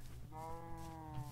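A Minecraft cow lowing once in a single drawn-out moo, fairly close and alone, with no voices over it.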